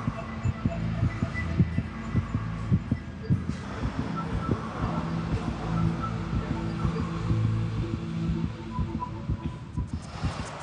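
A steady, rapid heartbeat thumps low and muffled, each beat closely following the last under a constant hum.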